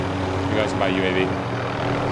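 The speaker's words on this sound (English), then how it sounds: "I got the chopper up right there." A helicopter in the video game Call of Duty Warzone makes a steady low rotor and engine drone throughout, with a player talking over it.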